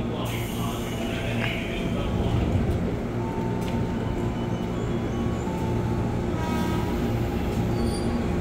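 An electric commuter train (KRL) entering Depok Baru station, Indonesia, rumbles steadily with a low mechanical drone, faint high wheel squeal and clatter, sustained and fairly close throughout.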